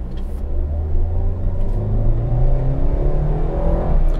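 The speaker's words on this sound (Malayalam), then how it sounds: "പക്ഷെ ആ സൗണ്ട് എഞ്ചിൻ്റെ സൗണ്ട് ശരിക്കും ഓഡിബിളാണ് അകത്തേക്ക്." A Maruti Suzuki XL6 with the 1.5-litre K-series engine and automatic gearbox pulls away in drive, heard from inside the cabin as a steady low rumble with rising engine tones that build through the whole stretch. No one talks.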